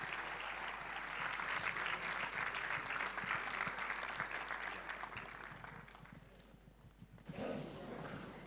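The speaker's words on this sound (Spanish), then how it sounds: "Un aplauso, por favor" A large crowd at a cultural center gives sustained, dense applause, loud and steady for several seconds before thinning out toward the end, with a brief burst of noise just before the clip closes.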